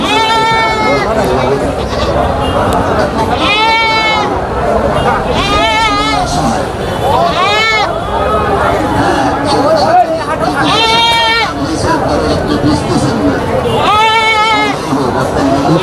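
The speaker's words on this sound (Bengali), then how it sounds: "আমার সামনে যে ছাগলটা আপনারা দেখতে পাচ্ছেন" A four-tooth Tota Puri goat at a livestock market bleats loudly about six times in wavering, regularly spaced calls over constant crowd chatter and voices.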